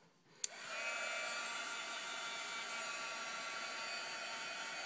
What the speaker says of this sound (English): So I'm going to turn the heat tool on